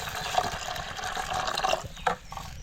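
Water poured into a pot of Konkani fish curry cooking on a home wood-fired stove, a steady liquid gurgle running for a couple of seconds, close and moderately loud, ending in a brief splash.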